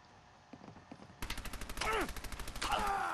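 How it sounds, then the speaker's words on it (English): Rapid submachine gun bursts from a firefight in Fallout 4, a steady chatter of repeated shots with sweeping whizzing tones over the top, loud and close, following a few softer sounds at the start. "Give me my SMG."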